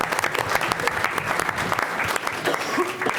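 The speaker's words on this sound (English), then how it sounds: "Let's give them a round of applause." A room full of people at a school board meeting claps steadily, with dense applause filling the whole stretch at an even, loud level.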